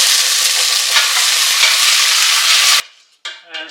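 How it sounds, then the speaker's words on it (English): Tomatoes go into a pan of whole spices frying in oil for an Indian kofta curry, giving a loud steady sizzle with scraping stirring strokes, which cuts off abruptly and then returns in brief softer bursts. "Now I'm going to add some these tomatoes here."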